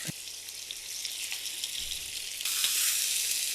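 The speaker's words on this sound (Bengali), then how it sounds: "এখন মাছগুলো ভাজতে আমি চলে আসলাম।" Fish frying in a little oil in a pan gives a steady, close sizzle that crackles throughout and swells louder near the end, with no voices.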